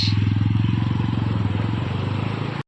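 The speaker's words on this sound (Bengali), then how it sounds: "আমরা এখন যাচ্ছি বাবার বাইকে করে ডেজিতে" A motorcycle engine chugs loudly and close in a fast, even pulsing rhythm while riding along, steady throughout before cutting off at the end.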